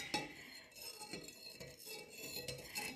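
A utensil stirs salt and vinegar in a glass, giving soft, quiet scraping and clinking strokes in an irregular rhythm, close by with no talking.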